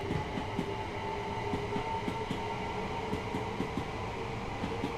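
A Class 377 electric train passes on the Brighton Main Line in Train Sim World 4, a steady rolling rumble with a regular clickety-clack of wheels over rail joints, loud and close throughout.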